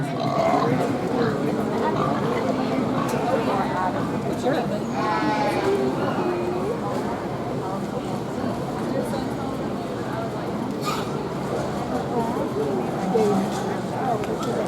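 Several sheep bleat repeatedly amid a busy crowd at a livestock show ring during junior classes, with a voice talking over a loudspeaker throughout.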